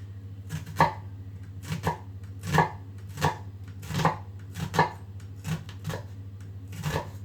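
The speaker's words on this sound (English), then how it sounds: "so we're gonna cut some little cubes" A knife chopping meat into small cubes on a cutting board, crisp regular strokes roughly one per second, close and clear with no talk.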